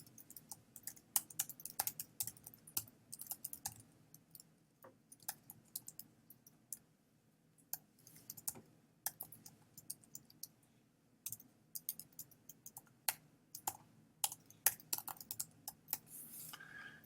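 Code is typed on a computer keyboard in close, irregular bursts of light clicking keystrokes with short pauses between runs.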